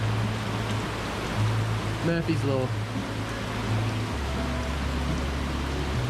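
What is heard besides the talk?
rain falling on a sailboat cockpit roof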